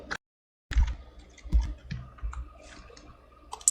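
A computer keyboard being typed on gives a short run of sparse, close clicks and taps at an irregular pace, with a brief silent gap near the start.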